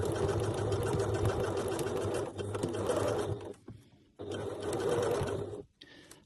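A sewing machine stitches a fabric-scrap shoulder strap onto seatbelt webbing. It gives steady, fast mechanical whirring runs that pause briefly and start again, close and clear, with no voices.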